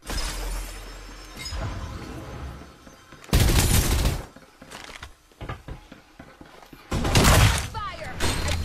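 Gunfire in the battle-royale shooter Farlight 84 comes in loud bursts, two heavy volleys standing out among scattered shots and in-game clatter, with a voice talking over parts of it.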